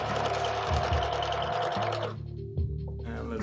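A sewing machine stitches a DIY designer bag, running fast and steady with a loud mechanical whir, then pausing and giving a brief clunk before falling quiet.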